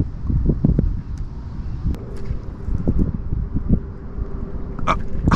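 Wind gusts buffet the microphone outdoors while fishing for predatory fish, a steady rough rumble with rustling throughout and a few faint clicks.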